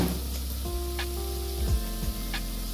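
A small splash of drinking water goes into a hot pan while cooking Bengali aloor dum, giving a steady hiss and sizzle with a few brief crackles throughout.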